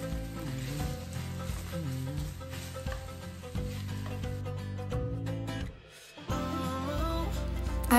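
Chicken breast and bacon frying in a pan, a loud, dense, continuous sizzle with a brief dip before it resumes, over background music.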